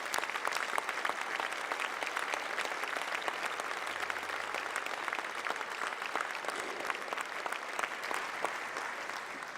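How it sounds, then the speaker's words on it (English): Audience at the 2017 Horatio Alger Association awards event applauding the awardees, a steady, dense wash of many hands clapping that holds evenly throughout without pause. "Please, let's give them all a round of applause."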